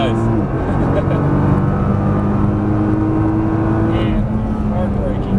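A Nissan GT-R's engine runs on a racetrack at Exotics Racing in Las Vegas, a loud, steady, close drone with strong harmonic tones that holds through the whole stretch with little change.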